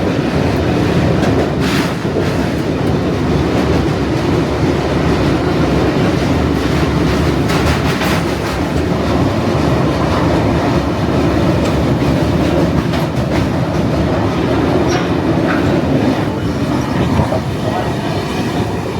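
Shalimar Trivandrum Express (22642) crossing the railway bridge over the Godavari River, a road deck running above: a steady, loud rumble of rolling wheels with rhythmic clatter and occasional metallic squeals, continuous throughout.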